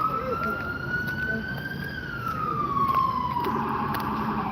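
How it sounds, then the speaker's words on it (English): Emergency vehicle siren on a street, one long tone slowly climbing then dipping in pitch, fairly prominent over steady traffic noise outdoors. "Tired of hearing the damn sirens."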